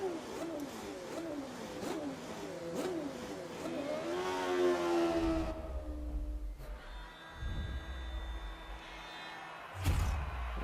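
A Formula 1 car engine in the F1 2012 racing game revs up and down in rising and falling sweeps while leaving for the track at Melbourne, then drops to a low idle rumble with a few sharp mechanical clunks.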